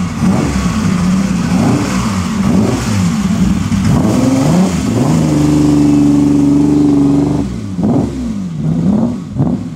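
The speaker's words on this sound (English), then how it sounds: "The BMW 328 that just rolled out, and what a great color scheme." A BMW 328 at an outdoor concours d'elegance, its engine revving loudly and close by as the car rolls out, rising to a sustained higher pitch before easing back.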